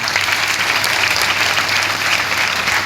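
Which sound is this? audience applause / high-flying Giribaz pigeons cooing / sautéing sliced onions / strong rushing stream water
audience applause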